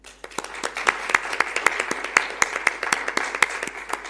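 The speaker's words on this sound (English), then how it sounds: "a great round of applause for the winners of the hackathon as well" Sparse clapping from an audience applauding hackathon winners at the close of a session, irregular individual claps rather than a full ovation, moderately loud and steady throughout.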